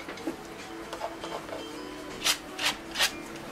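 A palette knife scrapes paint across canvas. Soft, faint rubbing strokes come first, then three short, sharper scrapes close together, with no other sound.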